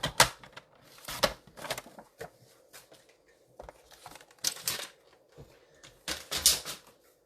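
Designer series paper for a Stampin' Up! fold card being cut to size, heard as short, crisp, scratchy cutting bursts in irregular clusters, close by, with quiet pauses between them.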